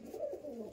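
Andhra Kalanka pigeons coo softly at close range, a short low rolling call with no voices over it.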